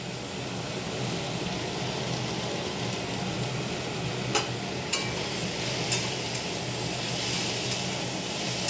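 Bitter gourd frying in a pan gives a continuous even hiss and crackle, with a few sharp clicks in the middle and no voices.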